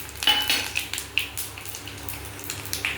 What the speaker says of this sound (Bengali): এবার ওই তেলের মধ্যেই আমি 5 ফোড়ন, শুকনো লঙ্কা, তেজপাতা, ওই যে ফোড়ন দিয়ে দিচ্ছি